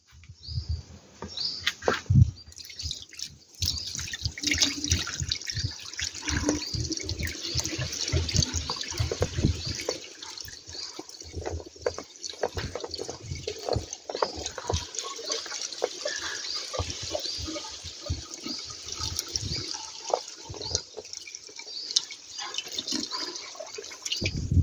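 Coolant water gushing and splashing steadily from an opened radiator pipe on a Honda Odyssey, a continuous liquid pour with drips, close and moderately loud, no talking.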